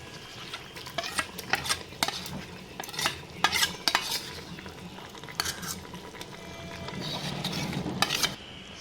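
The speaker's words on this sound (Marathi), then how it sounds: "ह्याच्यामध्ये आता मी घालत आहे कांद्याची पेस्ट" Onion paste goes into a hot pan for a chicken dish and gets stirred, with a steady sizzle of frying under repeated scraping strokes of a spoon against the metal pan, close and clear, with no talking.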